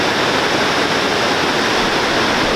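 Water rushing over the Camp Dearborn Dam on a river in Milford, a loud, steady, dense roar of falling water heard close with no breaks and no voices.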